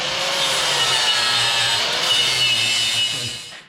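Metal edge being bevelled for welding on a boat guide-on frame, a steady, harsh grinding rasp running continuously up close before tapering off at the end.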